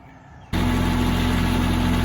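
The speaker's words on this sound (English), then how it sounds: "The PTO on the tractor is turned on." A tractor engine, with its PTO engaged, kicks in abruptly after a quiet moment and holds a loud, steady, throbbing drone close by.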